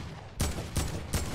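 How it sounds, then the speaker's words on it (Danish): Fortnite gunfire, three sharp, loud shots fired at a steady spacing of roughly a third of a second, standing alone without talk. "Jeg kan godt få et par skud ind på ham."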